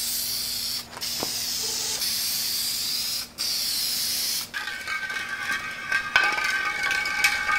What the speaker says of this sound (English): I have a brand new full fresh can of the vinyl fabric spray.